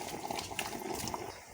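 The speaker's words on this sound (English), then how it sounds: "I have some hot water boiled," Hot boiled water poured into a pot of simmering chicken, a steady gushing, bubbling pour that stays loud and close for the whole moment without talk.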